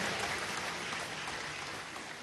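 Crowd applause for a woman named Silvia at a political meeting in a stadium, a steady dense wash of clapping, distant and fairly faint, with no voices over it.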